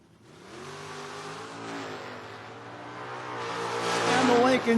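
Drag race cars, a Lincoln and a Camaro, roar side by side down the strip, engines revving hard and building to a loud climax, with a commentator talking over the racket throughout.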